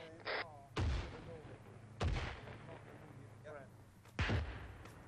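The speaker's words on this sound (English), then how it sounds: "Let's move, we're taking fire." Gunfire in ArmA 3 as three heavy, booming shots ring out at irregular intervals with long echoing tails, while a voice speaks faintly between them.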